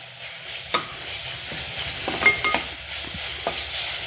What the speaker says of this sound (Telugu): దీన్ని ఇలా కొంచెం వేగనిద్దాం